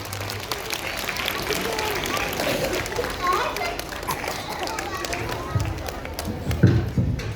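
An audience at a Grade II school assembly applauds a performance with dense, steady clapping, mixed with crowd noise and voices talking over it, fairly close and moderately loud.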